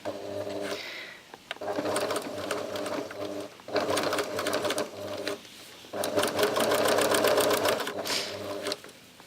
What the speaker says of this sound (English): move your needle to the edge so you're stitching just inside the edge of that to stitch it together